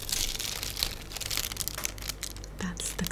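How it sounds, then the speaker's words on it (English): Waxy paper from between cheese slices crinkles up close in busy, crisp rustling bursts, fairly soft, with a few quieter gaps near the end. "That's the kind of waxy paper that goes between the pieces of cheese."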